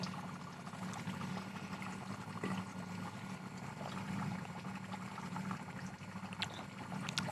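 Water runs steadily through an off-grid reverse osmosis filtration system, a continuous close pouring and trickling wash with no breaks and no talking.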